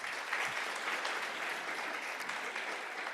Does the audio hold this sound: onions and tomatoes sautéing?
no